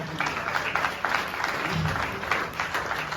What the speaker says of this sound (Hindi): एक बार नए साथियों के लिए जोरदार तालियां